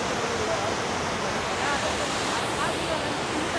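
Water rushes steadily at Hogenakkal falls in Tamil Nadu, a broad, unbroken roar close by that fills the whole clip without letup.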